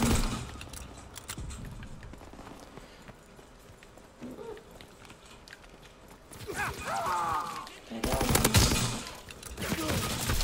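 Gunfire in the video game Call of Duty WW2, played as Team Deathmatch on the Gibraltar map, comes as bursts of rapid shots and heavier blasts. It is loudest toward the end, with voices and game noise underneath.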